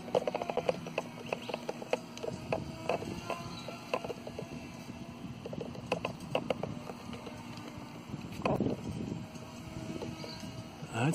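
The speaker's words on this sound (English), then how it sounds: "It's windy." Gusty outdoor wind buffets the microphone at an RC ultralight flying spot, a steady low rumble broken by scattered clicks and bumps, with no talking.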